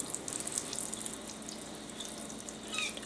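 Tap water streaming steadily into a sink while green onions are rinsed, a close, continuous splashing hiss with no talking.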